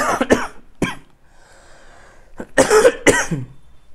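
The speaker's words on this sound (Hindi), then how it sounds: "इसलिए खांसी हो रही है कभी कभी" A few sharp, close coughs come in quick bursts, with a short quiet pause between the first coughs and a final louder cluster.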